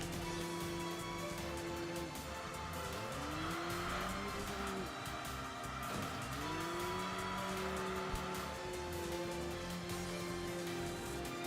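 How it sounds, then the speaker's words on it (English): A Toyota Estima minivan driven flat out on a tarmac rally stage in Enthusia Professional Racing, engine droning and rising and falling through gear changes, with tire squeal and skidding, loud and continuous with no talking. "We are rallying the Estima today."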